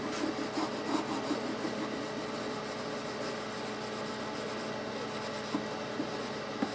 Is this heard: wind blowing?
no